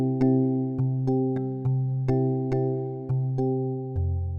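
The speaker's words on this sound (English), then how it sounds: "Into a masterclass Afrobeat production that will sound like this." An Afrobeat beat built in FL Studio plays softly: mellow sustained synth chords change every second or so, with light ticking percussion on a steady pulse and no voices.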